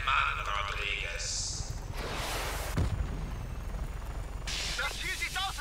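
Helicopter in the video game Just Cause 3 droning steadily throughout amid game combat noise, with bursts of explosions and gunfire layered over the rotor hum.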